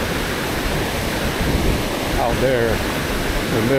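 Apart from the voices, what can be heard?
river water rushing at high level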